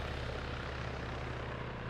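Helicopter engine and rotor in the video game Arma 3, a steady, loud, droning whine with a low rhythmic thump running unbroken throughout, with no voices.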